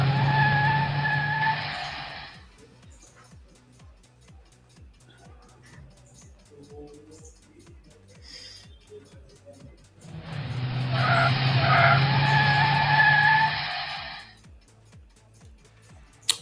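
Tires skidding in an F1-style racing video game: two long, loud squealing skids several seconds apart, each over a buzzing, pulsing engine drone that runs the whole time at a lower level.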